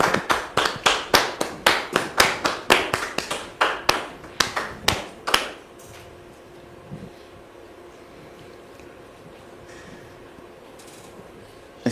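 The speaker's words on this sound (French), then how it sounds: "Merci de les recevoir sous vos applaudissements" A crowd claps in a burst of sharp, rapid hand claps at a welcome, loud and dense for about five seconds before cutting off into quiet room murmur.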